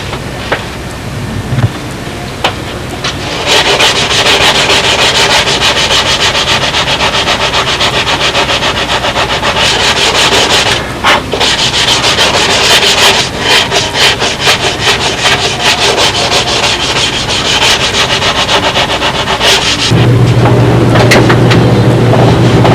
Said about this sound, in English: I got the nose pretty well sanded out now.